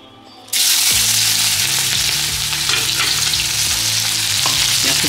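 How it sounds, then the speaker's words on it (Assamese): Sliced onion is dropped into hot oil in a pan, setting off a sudden loud sizzle that continues steadily, with occasional stirring scrapes and taps. "পিঁয়াজটো বহুত বেছি দেৰি ফ্ৰাই হ'ব দিব নালাগে"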